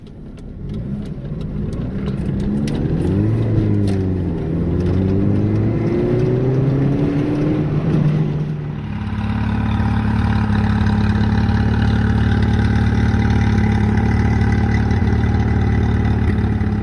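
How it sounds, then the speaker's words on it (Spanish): Classic non-turbo car engine revving with immediate throttle response, rising and falling in quick blips before settling into a loud, steady high idle, close up with no talk. "al no tener turbo, la respuesta del acelerador es inmediata. Responde simplemente acariciando el acelerador de forma inmediata."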